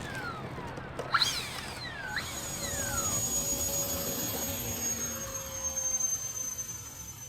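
A model CargoJet cargo plane's electric jet-style engine powers up, a steady whine with rising and falling tones holding over a constant hiss, fairly close, with no talking.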